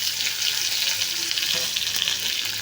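Tomato, onion and capsicum frying with potatoes in a pan over low heat, a continuous close sizzle with a few soft stirring sounds and no voices.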